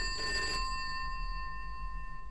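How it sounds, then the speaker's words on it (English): A telephone rings at a small-town fire station, a single bright electric bell burst followed by a steady tonal hum, loud and alone with no talk. "Quick, we must ring up the fire brigade."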